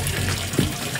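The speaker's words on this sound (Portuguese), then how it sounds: "Coloque um pouco de água e agite." Water sloshed inside a watering can holding dolomitic limestone and a spoonful of wood ash, a brief, continuous close gush of agitated liquid with no speech.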